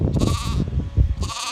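Blue Faced Leicester lamb on a farm bleating loudly and close, two wavering cries separated by a brief pause.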